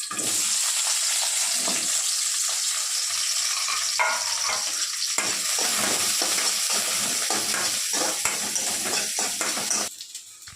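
Onions cut into large pieces fry in oil in a kadai, giving a loud, steady sizzle with scattered stirring scrapes throughout, no voices, until it drops off sharply near the end.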